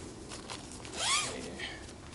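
A zipper on a homemade MLD Trail Star cocoon nest tent is drawn in one quick, rising sweep at close range, with soft rustling of fabric before and after it.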